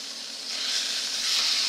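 Pot roast searing in a hot pan, giving a steady close hiss and sizzle that swells slightly louder partway through, with no speech.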